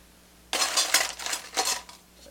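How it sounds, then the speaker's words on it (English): Ice cubes clatter into a cocktail glass, a few quick bursts of sharp clinking at close range with no one talking. "Add some ice on here."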